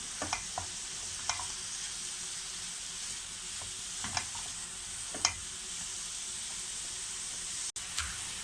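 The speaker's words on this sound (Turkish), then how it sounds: "İki tatlı kaşığı pul biber koydum. Bunları kavuruyorum biraz." Red pepper flakes sauté in a pan over a steady, soft sizzle, with occasional light taps and stirs of a utensil against the pan.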